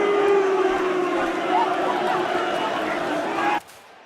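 A crowd of fantasy-football fans in a Blood Bowl match groans and murmurs in displeasure, a dense, steady roar of many voices that holds for over three seconds and then cuts off abruptly.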